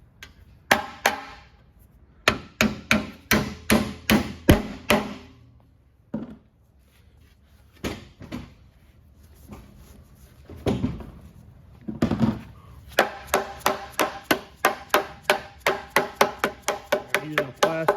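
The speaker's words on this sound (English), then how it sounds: "I'm using a plastic mallet here to be sure that I don't punch a hole in this" A plastic mallet taps copper roofing nails into a fence in quick rhythmic runs of sharp knocks. Several bursts are separated by short pauses, close and clear, with no speech.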